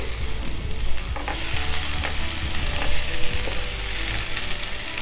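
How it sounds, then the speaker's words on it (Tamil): Onion and tomato sautéing in oil for a tea-stall style chutney, a steady close sizzle with occasional stirring scrapes and small pops throughout. "வெங்காயம், தக்காளி போட்டு நல்லா வதக்கலாம்"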